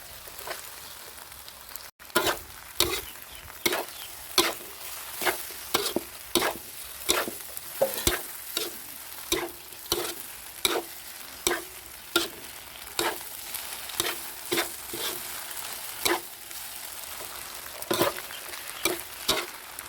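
Wide rice noodles stir-fried sukiyaki style in a pan, a large three-plate batch, with a spatula scraping in steady, evenly spaced strokes about once every second over a soft background sizzle, close and fairly loud.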